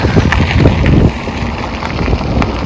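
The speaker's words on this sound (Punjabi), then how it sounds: "ਠੰਡੀ ਹਵਾ ਚੱਲ ਰਹੀ ਹੈ" Wind buffets the microphone in a constant rushing roar during a bicycle ride in Italy, with occasional gusts rising and falling, loud and close throughout.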